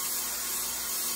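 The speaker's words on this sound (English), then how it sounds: "I'm just going to spray down one side." Hairspray hisses from an aerosol can onto one side of a sublimation craft piece near a heat press, a loud, steady hiss that fills the whole moment with no talk.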